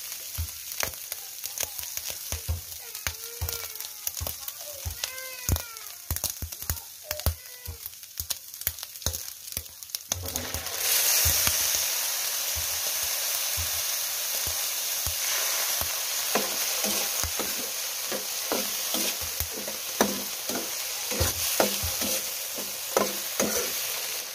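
Sea leech adobo in coconut milk sizzling in a pan with soy sauce added, loud crackling frying under rhythmic stirring scrapes, the sizzle surging and then holding steady with repeated utensil taps.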